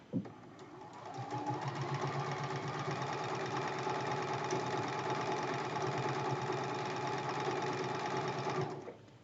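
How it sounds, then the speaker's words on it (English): A sewing machine stitches a quilt block seam for several seconds, a steady close mechanical whirring and rapid needle chatter that starts and stops cleanly. "We're going to line that up and sew this seam."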